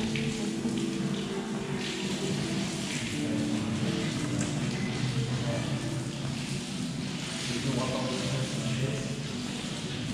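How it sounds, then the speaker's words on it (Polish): Warm spring water flows steadily from a tap in the mountains near Polanica Zdrój, a constant rushing splash close by with a brief voice underneath. "Ciepła, ciepła woda. O, ciepła woda."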